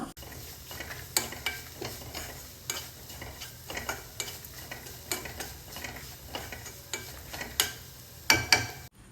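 Coconut masala being sautéed in a pan for banana stem thoran, a soft continuous sizzle broken by repeated scraping strokes of a spoon stirring at a steady rhythm, close and moderately quiet.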